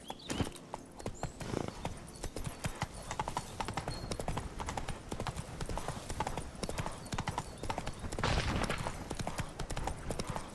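Horse hooves clip-clop steadily at a walking pace in the Witcher 3 video game, close and continuous, with a brief neigh and occasional talk over the top.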